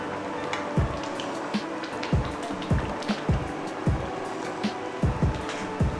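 Prawns being stirred in a pot of spicy tom yum soup, with a soft steady simmer and several regular scraping stir strokes spaced about half a second apart, close by and moderately quiet.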